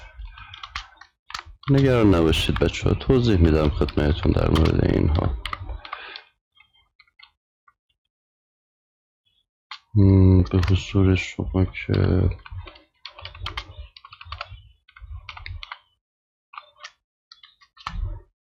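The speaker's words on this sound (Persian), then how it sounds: "خب من اینجا تایپ میکنم،" Keys clatter on a computer keyboard in short bursts of light clicks, partly between stretches of someone talking and alone in the quieter pauses near the end.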